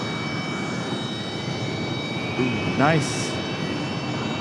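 A Delta Airbus A319 departs Raleigh-Durham, a steady jet roar with a high whine running throughout at moderate level, while a person briefly speaks over it.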